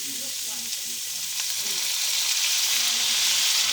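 Chopped tomatoes sizzle steadily in hot chorizo oil with onions for a cod and chorizo stew, a constant bright frying hiss that grows slightly louder across the clip, with no talking.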